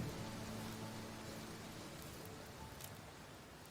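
Steady soft rain falls through the night in a rural spot, a fine even hiss with faint low hum beneath and a slight easing in level toward the end; no voices.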